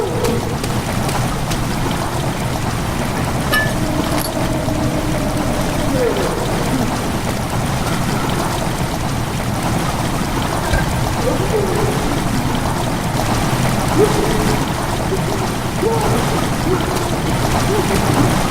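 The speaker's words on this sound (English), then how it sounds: "How a wind blows like that." Wind in the video game Amnesia: The Dark Descent blows as a constant, full, rushing noise that never lets up, loud and even from start to finish.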